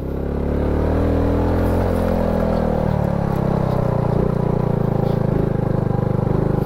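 A motorcycle engine runs steadily and loudly throughout while riding a rough road in Albay, Philippines, a continuous droning hum with a low harmonic rumble, no talking.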